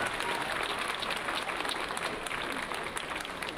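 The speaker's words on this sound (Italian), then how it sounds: "un forte applauso" Warm applause for the conductor of an Alpine military brass band, a dense, even wash of clapping from a sizeable crowd that stays at a moderate, distant level throughout.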